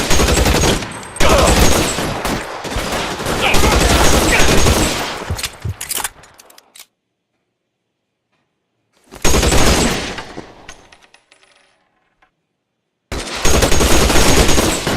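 Loud bursts of rapid gunfire crackle through a shootout in L.A. Noire, coming in three barrages separated by sudden silences.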